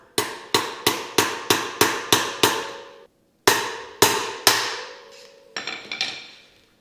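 Hammer striking a flathead screwdriver to knock out a worn e-bike wheel bearing: a rapid run of eight sharp metallic hits, a short pause, three more strong blows, then a few lighter taps, close and ringing.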